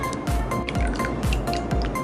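Thick beetroot juice is poured into a batter mix for a sweet fry, giving repeated wet, squelching plops and dripping splashes in a steady rhythm, close and fairly loud.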